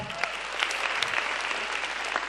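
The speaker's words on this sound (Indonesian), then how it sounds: "Tapi tepuk tangan dulu buat Suci X" A live audience applauds at the grand final of the stand-up comedy competition Suci X, with dense, steady clapping and occasional louder claps and cheers throughout.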